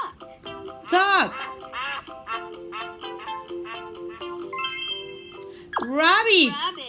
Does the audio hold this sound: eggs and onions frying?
no